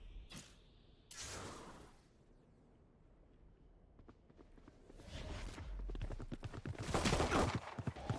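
Gunshots traded in a Valorant match come through as short, sharp bursts and single cracks spread unevenly across the stretch. Some are near and loud, others fainter, with scuffing footsteps between them and no speech over the top.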